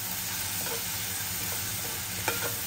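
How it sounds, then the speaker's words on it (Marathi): Garlic and masala sauté in a pan for a pomfret curry, a steady close sizzle and hiss with light stirring scrapes and one sharper knock near the end. "मस्त शिजवलं वास येईपर्यंत परतून घ्यायचं आहे."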